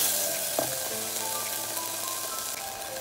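Spices frying in oil with softened tomatoes in a pan for sarson ka saag, a steady close sizzle heard alone.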